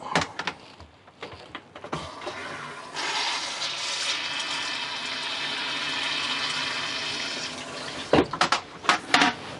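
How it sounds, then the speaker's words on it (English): An RV toilet in a fifth-wheel trailer flushes in one loud, steady rush of water lasting several seconds, ending with sharp clunks and gurgles as the valve closes. "And the toilet."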